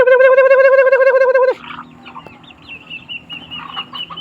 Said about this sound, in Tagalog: Pakain tayo mga idol, mga manok.